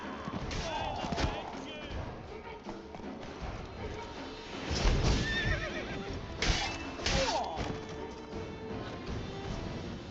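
Roach, the horse in The Witcher 3, whinnies and neighs over clopping hooves, with game voices and clattering action mixed in; the neighs come in a few loud bursts partway through.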